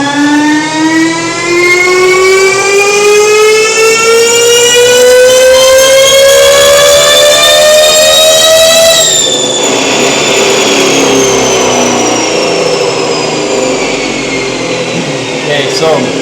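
A motor driven at full throttle by a sensorless controller gives a loud, steadily rising electric whine with stacked harmonic tones, then settles into a rougher, noisier high-pitched hum that holds for several seconds.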